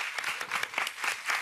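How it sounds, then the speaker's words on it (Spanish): An audience claps at a comedy show in a brief burst of applause. The bursts of hand claps rise and fall unevenly, fairly close and moderately loud, with no talk. "Un aplauso"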